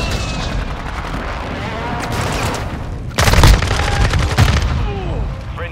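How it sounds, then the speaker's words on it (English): Airstrike explosions and gunfire in the video game Call of Duty MW2 multiplayer: a steady din of distant shots gives way to loud, close blasts and bursts of fire partway through, with a voice briefly present. "Hostile airstrike near your location."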